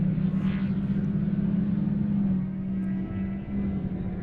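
SXS race cars at the Texas Outlaw Series off-road race, their turbocharged engines passing by with a steady low droning rumble and a rising, falling engine tone.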